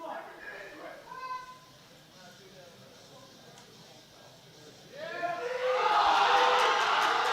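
Spectators at a junior powerlifting world championship, cheering faintly under a commentator's voice at first, then breaking into loud, sustained applause and cheers near the end.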